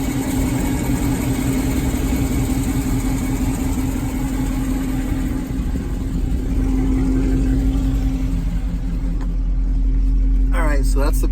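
A lowered car fitted with Corsa longtube headers idling, a deep, steady exhaust rumble close by and loud, with a mechanical whine creeping in near the end; someone talks over it.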